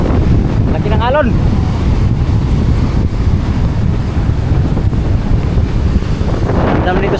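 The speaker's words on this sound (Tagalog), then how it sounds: "Laki ng alon." Strong typhoon wind roars and buffets the microphone on the shore at Dinahican, Infanta, Quezon, with big surf crashing in the background, a loud, steady rush that holds throughout with no pause.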